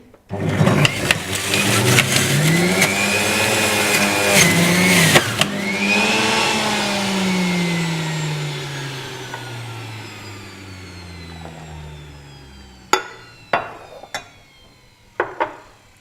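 A juicer motor whirs loudly and steadily with a grinding, pulpy texture as it juices apples, then winds down, followed by a few sharp knocks and clatters.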